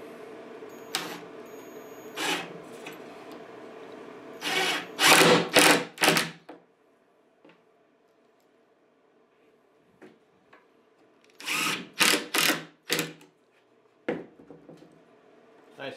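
Cordless power drill driving screws into a wooden under-bed storage drawer, two clusters of short whirring bursts a few seconds apart, close and fairly loud, with quieter clicks and handling noises between them.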